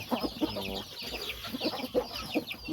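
A Thai fighting rooster clucks repeatedly in short, close bursts, with brief rhythmic calls and some background bird chatter.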